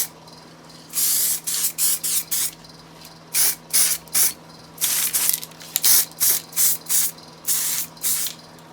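Aerosol can spraying a coating onto MGB GT parts in a rhythmic run of short hissing bursts, about a dozen quick sprays with brief gaps, close and fairly loud.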